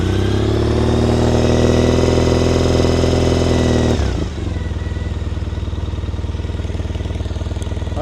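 Triumph Bonneville T100 motorcycle fitted with Motone Odin exhausts, running at raised revs with a loud, close throaty drone before dropping suddenly to a steady, lumpy idle thump.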